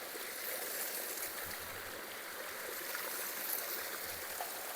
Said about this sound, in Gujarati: નીચેથી જો પાણી ઓગળીને ટીપા પડે છે અને પાણી જાય છે નીચે બાજુ